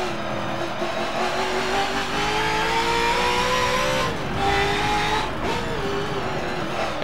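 A race car engine in Forza Motorsport 7 drones steadily at high revs, its pitch climbing and dipping through gear changes and a corner, loud and continuous with no talk.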